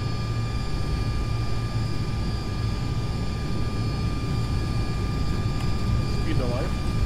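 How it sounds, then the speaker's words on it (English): A Tupolev 154 B2 in X-Plane 11, with its jet engines at takeoff thrust making a steady, loud, broad roar and a constant whine, while cockpit voices speak over it. "Take off thrust, parameters normal, holding thrust."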